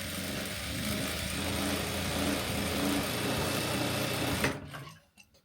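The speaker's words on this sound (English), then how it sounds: "I sew the end shut." A sewing machine stitches the end of a fabric scrunchie shut in a steady, fast, close mechanical whir that stops abruptly near the end, leaving quiet.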